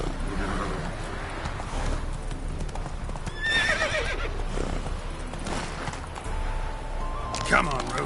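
Horse hooves clip-clop at a gallop in The Witcher 3 video game, a steady close rhythm with a whinny and a rider's voice calling to the horse over game music and ambience.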